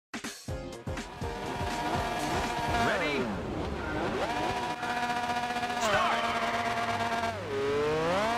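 Simulated race car engine from Gran Turismo on the PSP, loud and continuous, revving hard and climbing through gears with sweeping pitch rises and drops after a sharp start, with brief talk at the beginning.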